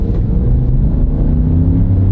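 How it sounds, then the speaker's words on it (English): A Nissan four-wheel-drive truck with a V8 engine accelerates hard uphill with the throttle floored, giving a close, loud, deep rumble that holds steady throughout. "You can hear that V8 engine."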